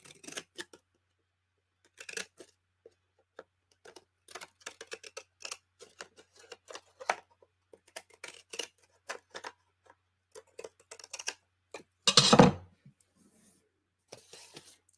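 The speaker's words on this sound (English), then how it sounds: "I'm going to go ahead and trim the top of my bag." Scissors snip along the top edge of a paper bag in a series of short, crisp cuts close by, spaced irregularly, with a louder rustling crunch of paper near the end and no talking.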